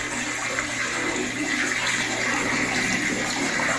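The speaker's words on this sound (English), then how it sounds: "right now we are actually running water on the waterfall" Water runs steadily over a small model waterfall on a junkyard diorama, a continuous close trickling and splashing wash with no talk.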